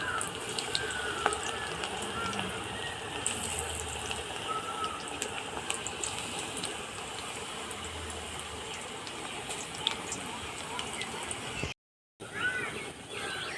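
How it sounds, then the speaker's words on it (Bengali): Spicy cabbage and gram flour fritters fry in hot oil in a kadai, giving a steady, dense sizzle and crackle that runs nearly throughout, with a brief break near the end. "কড়াতে তেলও তেতে গেছে। ঝাল বড়াগুলো ভেজে নেব।"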